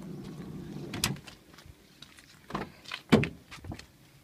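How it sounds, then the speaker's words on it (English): A 2005 Nissan Elgrand's power sliding door glides and thuds shut with a few mechanical clunks and clicks, close by and fairly quiet, with no talking. "It's also got a remote access, single slide door."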